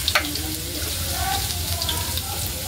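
Garlic frying in hot cooking oil, a close, continuous hiss and crackle with some faint stirring noise.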